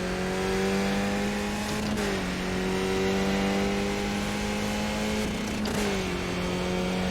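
A Skip Barber race car in iRacing holds a loud, steady engine drone. Its pitch climbs under acceleration, dips briefly at two gear changes, then rises again, with no talk.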